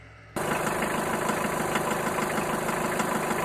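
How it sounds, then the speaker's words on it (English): A car engine idling with a steady, rough mechanical rumble that cuts in abruptly after a brief quiet moment and holds at constant level, close and alone without speech. "from behind the house, came the faint sound of an engine."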